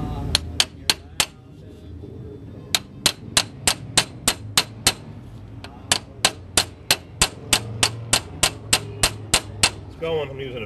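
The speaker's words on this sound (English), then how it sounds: "I'm using a very small hammer, not to inflict damage." A very small hammer taps a car ball joint shaft with a burr on its end, striking in sharp, evenly spaced metallic clicks, a steady run of about two dozen blows with one short pause, close up.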